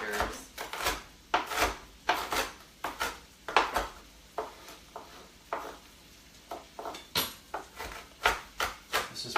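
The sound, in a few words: peeling hard-boiled eggs for deviled eggs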